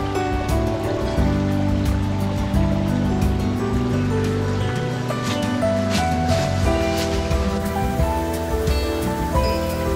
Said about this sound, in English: the water is just coming up out of the ground, and it's doing a good job of it